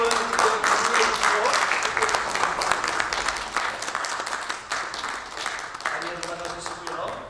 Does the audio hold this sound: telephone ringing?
no